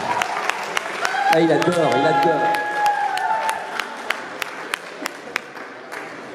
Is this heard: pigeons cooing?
no